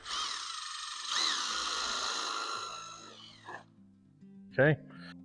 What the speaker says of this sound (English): I'm putting the screws in place